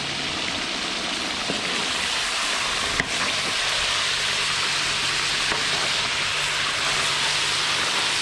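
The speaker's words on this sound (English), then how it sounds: "Let it fry a little bit." Five heads of garlic fry in a large pot of plov, giving a close, continuous, even sizzle with a faint clink partway through.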